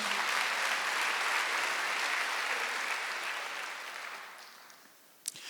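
A church congregation at a Wednesday worship service claps together in a broad, sustained burst of applause that gradually fades over several seconds. A single sharp knock is heard near the end.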